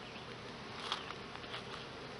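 Honeybees flying around the front of an opened hive make a steady, close insect buzz with soft overlapping wingbeats and no talking.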